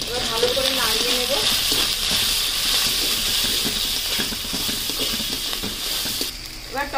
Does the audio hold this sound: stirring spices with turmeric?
yes